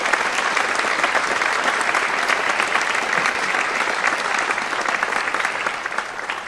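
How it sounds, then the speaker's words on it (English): Steady, full applause from a high school senior awards night audience honoring scholarship donors, a continuous wash of many hands clapping that fades slightly toward the end. "How about a big round of applause for all of our scholarship donors?"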